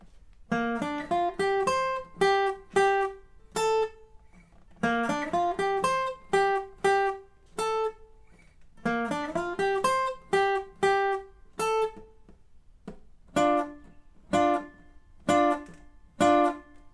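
Electric or acoustic guitar playing a riff, a bright picked figure repeated in phrases with short pauses between, ending in sparse single plucked notes, clear and close with no talking.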